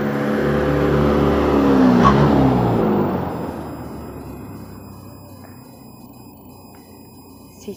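A bus drives past a village house. Its engine rumble is loud and close at first, then fades steadily as it moves away, and there is no talking.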